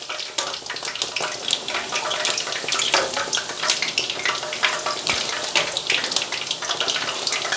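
Noodles fry in hot oil while being basted for a crispy bird's nest base, a dense, steady sizzle with bright crackles and spatters throughout, close and fairly loud.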